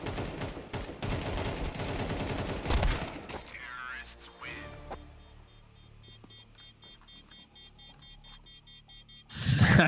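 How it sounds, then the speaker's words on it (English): Three players shoot in a video game, with dense, loud bursts of gunfire for the first few seconds, then a quieter stretch of scattered shots and game sounds, and a final loud burst at the end. "there are 3 guys that are just shooting here"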